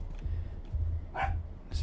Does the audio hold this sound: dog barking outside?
yes